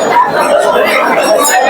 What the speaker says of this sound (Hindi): बड्ड भीड़ है।